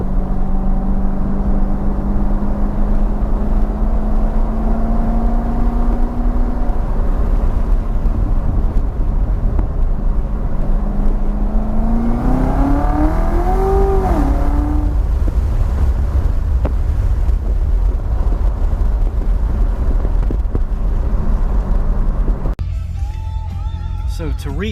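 A 2019 Corvette Z06 special edition with exhaust valves set to track mode drones loudly, its engine note rising and falling through gear changes under wind noise before cutting to a quieter cabin sound.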